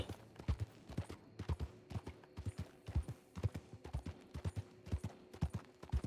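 Horse hooves clip-clop at a steady trot in Red Dead Online, a rhythmic run of hoofbeats close and clear from start to finish, with faint game ambience underneath and no talking.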